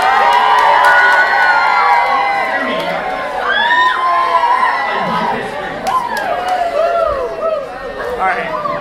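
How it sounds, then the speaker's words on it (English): An audience at a summer student involvement presentation screams and cheers for thrown candy, a loud, sustained mass of shrieking voices and whoops that stays dense throughout, with scattered higher shouts rising and falling. "you gotta scream if you want candy"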